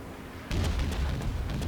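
Warship guns fire in a World of Warships naval battle as the USS Atlanta shoots at the player: a sudden boom at about half a second opens a sustained low rumble dotted with faint distant bursts.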